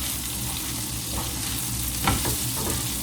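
Green onions sizzle in oil in a frying pan while being stirred, a steady frying hiss with a few scraping stir strokes, close and continuous, no talking.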